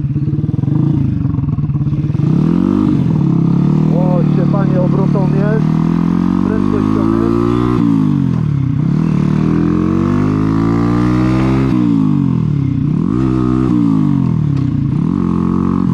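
A Romet Ogar moped engine runs loud and close throughout, its revs climbing and dropping in repeated surges as it accelerates. Voices are heard over it.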